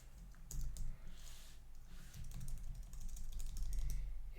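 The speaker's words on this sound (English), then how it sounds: "If I can really do any sort of typing, that'd be awesome." Steady typing on a computer keyboard, with dense, close clicking keystrokes running continuously over a low background hum and no one talking.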